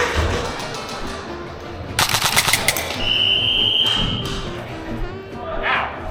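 Airsoft guns fire in a rapid burst of sharp clattering shots, followed by scattered single pops and a high whistling tone amid outdoor shouting and background voices.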